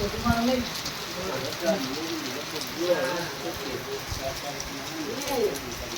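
Rain falls steadily at a relative's home during the monsoon, a soft continuous patter with faint voices and scattered calls drifting above it.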